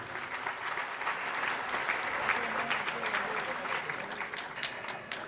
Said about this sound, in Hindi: सब जोरदार तालियों से उस संघ का अभिवादन करें।